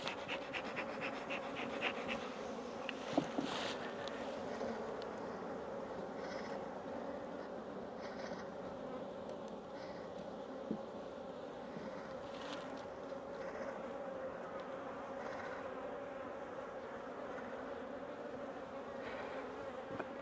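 Honey bees swarm around hives at a remote cabin apiary, a steady soft drone of buzzing with individual bees zipping close past now and then, fairly faint throughout.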